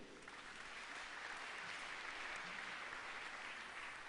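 A church congregation bursts into sustained applause during a sermon, a steady broad wash of many hands clapping for several seconds, fairly distant and even in level.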